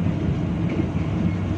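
A steady low rumble of the Gajah Wong passenger train rolling along between Yogyakarta and Jakarta, continuous and fairly loud, with no voices.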